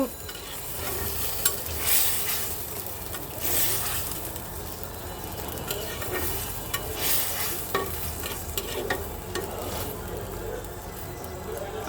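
Fried prawns go into a simmering curry with drumsticks and potatoes and are stirred. A continuous close bubbling sizzle runs throughout, with scattered soft stirring knocks and scrapes and no speech.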